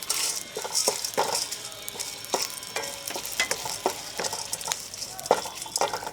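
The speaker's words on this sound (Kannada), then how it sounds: "ಇದು ಫ್ರೈ ಆಗ್ತಾ ಇದ್ದಾಗೆ ಕಡಲೆಬೇಳೆ, ಉದ್ದಿನಬೇಳೆ ಹಾಕ್ಕೊಳ್ಳೋಣ." Chana dal and urad dal frying in a hot oil tempering for gongura chutney, with a steady crackling sizzle and frequent sharp stirring taps and rattles of a spoon in the pan, close and fairly loud.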